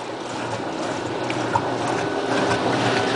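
Repaired Maytag washer drum spinning at full speed: a steady, even mechanical whir with faint rattling, close and continuous, with no talking.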